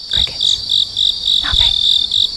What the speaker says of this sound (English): Crickets. Nothing. It was silent.